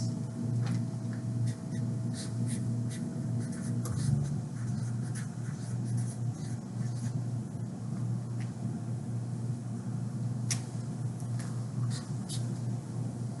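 Marker or chalk writing a word on a classroom board, steady scratchy strokes and small taps running for several seconds over a constant low room hum, close and moderately loud.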